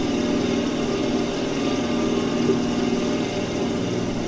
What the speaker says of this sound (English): plane is a bit noisy, so I'm going to lower the volume